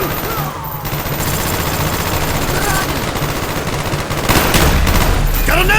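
Sustained machine gun fire rattles from a tower in the game Black Ops, a loud dense stream of rapid shots and impacts with faint voices underneath.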